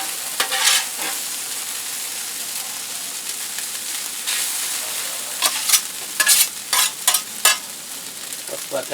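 Egg fried rice sizzles steadily on a hot griddle while a spatula stirs and scrapes it, the close scraping strokes clustering into a quick run of sharp bursts near the end.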